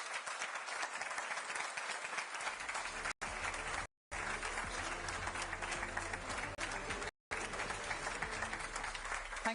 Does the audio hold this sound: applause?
yes